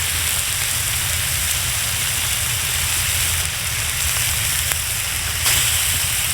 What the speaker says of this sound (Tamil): இப்போ ஃப்ரை பண்ணி எடுத்துக்கலாம்.